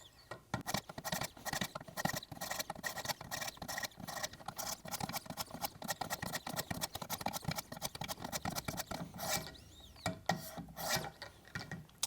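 A Schrade PH1 hunting knife is drawn across a sharpening stone in steady repeated swipes, each a close, dry rasp in a quick rhythm with brief pauses, heard alone.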